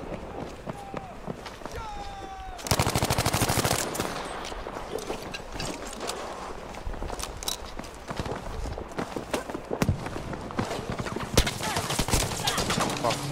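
Weapon fire in the shooter Battlefield 5 rattles in rapid repeated shots and bursts through the mix, alongside footsteps and battle noise, with someone talking over much of it.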